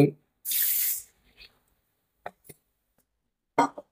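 Basmati rice is washed in water, with a short rushing splash of running water near the start, then scattered brief sloshes and rattling grain sounds separated by silence.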